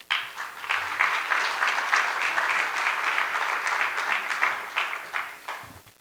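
Steady applause from a seated audience at a legal seminar greets a speaker, a dense wash of clapping that holds for several seconds and starts to thin near the end.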